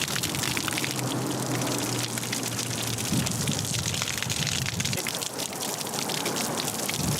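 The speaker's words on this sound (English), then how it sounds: "All right, hose them down." A garden hose sprays water onto people outdoors, a steady broadband hiss of spray and splashing that runs continuously and loudly, with a faint low hum in the first few seconds.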